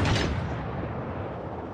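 Naval gunfire from warships in World of Warships, a single heavy boom at the start that rolls out into a long, dense rumbling decay.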